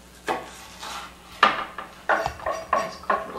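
A knife slicing crab lengthwise on a cutting board, giving several distinct close knocks and scraping cuts spaced irregularly, fairly loud with no talk.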